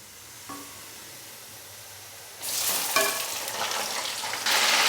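Chicken pieces are dropped into onions already fried light brown, and a quiet pan sizzle jumps into a loud, crackling frying hiss, with clatters of stirring and a second surge near the end.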